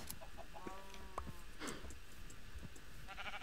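Minecraft sheep bleat in short wavering calls amid a farmyard mix of clucking chickens, faint and distant against a constant low background, several calls spread across the few seconds.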